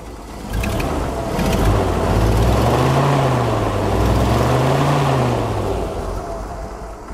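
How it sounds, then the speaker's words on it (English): A Volvo TP 21 radio vehicle's six-cylinder side-valve engine runs with a steady, quiet low hum that rises and falls gently in pitch, heard close by with no talking. "You can barely hear the engine, the 6-cylinder side valve engine."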